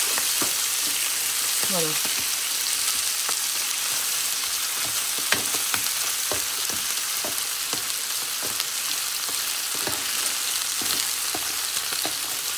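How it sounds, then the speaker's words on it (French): Meat with bacon lardons and sausages sizzling as it browns in an electric slow cooker with thyme and rosemary, a steady loud frying hiss broken by occasional stirring clicks and a brief spoken word. "je cherche juste à donner une coloration à la viande"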